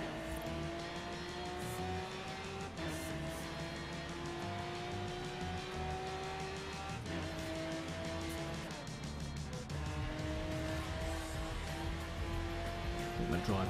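A car driven in the racing video game Forza 3, its engine droning steadily with rising revs and gear shifts, occasional tire squeal, continuous and fairly loud throughout.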